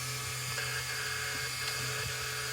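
A steady high-pitched whir from the steering servo of a Losi 8X RC car up on a stand, buzzing continuously with small shifts in pitch as it moves.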